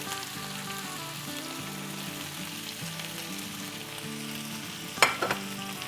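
Potato bhujia with lemon juice and green coriander being mixed in a sizzling pan, a continuous soft frying hiss under a low steady hum, then a sharp metallic clatter of the spoon near the end.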